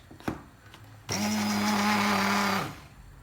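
Hand blender whirring through homemade ice cream, a faint tap first, then a steady loud motor buzz for about a second and a half before it cuts off.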